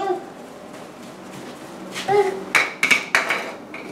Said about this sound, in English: You should go hammer some more.